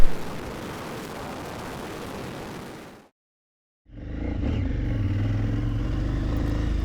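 A big KTM 990 motorcycle shifts up into sixth gear and pulls away, its engine a loud steady drone. It follows a windy rumble and a brief silent break.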